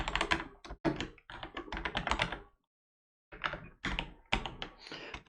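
Code being typed on a computer keyboard, rapid close clattering keystrokes in two dense bursts separated by a short silent pause.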